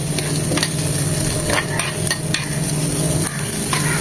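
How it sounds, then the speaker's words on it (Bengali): Onion lightly frying in a pan for an eggplant bharta, a steady sizzle with stirring scrapes, loud and close, no talking. "পেঁয়াজটা এই তালে একটু হালকা করে ভেজে নেব যেন কাঁচা পেঁয়াজের কাঁচা গন্ধটা চলে যায়"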